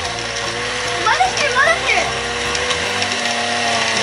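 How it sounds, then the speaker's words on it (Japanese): A blender whirs steadily mixing a smoothie under excited Japanese voices, a continuous motor drone lasting a few seconds. "じゃあこれをミキシング、ミキシングじゃねえ、ミキサーしますね"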